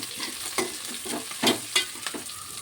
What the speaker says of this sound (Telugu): ఇవన్నీ బాగా దూరగా వేయించుకోవాలండి. ఇలాగా మంచిగా వేయించుకోవాలి.